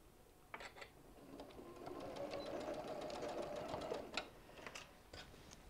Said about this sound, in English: I'm going to do a back tack and then just start sewing.